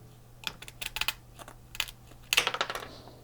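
An old PCB panel being cut across, heard as bursts of sharp, close clicks and snaps in small clusters with short quiet gaps between them.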